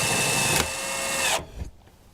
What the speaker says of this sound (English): And we're going to screw the cap to the cylinder.